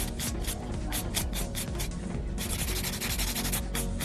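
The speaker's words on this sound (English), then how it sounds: "That's why I'm using the hand file technique, so I don't overfile and ruin it." A hand file rubs back and forth across acrylic ombre nails in quick, even strokes, a close, gritty rasp repeating rapidly with no voices.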